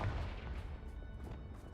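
Confringo fire-blast spell from a Harry Potter video game, a muffled low boom with rumbling crash that decays over under two seconds, fairly faint.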